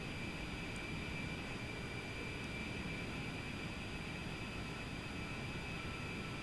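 Steady whine and roar of an A-10 jet's engines pulled back to idle power on short final, a constant broadband hiss with high tonal whine that holds even and unbroken from start to finish.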